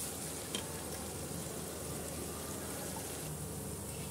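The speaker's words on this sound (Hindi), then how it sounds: "इधर हमने प्याज को चलाते हुए बहुत अच्छे से फ्राई कर लिया।" Chopped onions frying over high flame in a pan for a dhaba-style paneer masala curry, giving a steady, soft sizzling hiss that runs evenly throughout with no voices.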